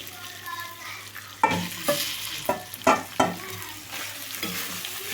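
Lemon rice (pulihora) being stirred in a pan after the stove is switched off, with several distinct scraping strokes of the spoon against the pan over a faint steady background, no one talking.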